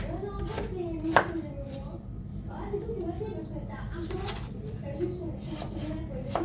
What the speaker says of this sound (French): Voilà, on coupe en petits morceaux.